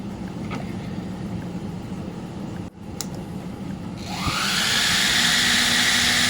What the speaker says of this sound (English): Little fan blades and a motor